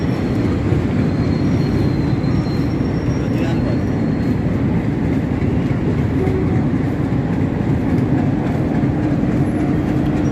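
A Pakistan Railways train and its engine at Lahore railway station make a loud, continuous rumble and rolling rail noise, with voices talking over the platform bustle throughout.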